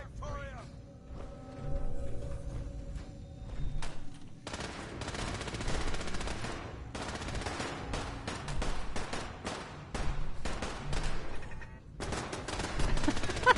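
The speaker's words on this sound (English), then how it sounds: "I can just hear all the turrets and all the people shooting and all the stuff going on" Turrets and gunfire in Fallout 4 on PS4, rapid automatic bursts rattling in repeated volleys with short pauses, fairly loud and continuous across the scene, someone talking over parts of it.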